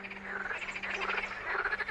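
A marsh frog croaks in a rapid run of pulsing calls, fairly close and steady over about two seconds, alone with no voices.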